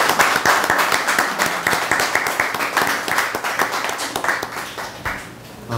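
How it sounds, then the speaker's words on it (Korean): Audience members at a Korean community association meeting in the Southeast clap for one another, a dense patter of many hands that stays steady and fairly close before thinning out near the end. "옆에 계신 분들을 바라보면서 박수 한번 서로 쳐주시기 바랍니다"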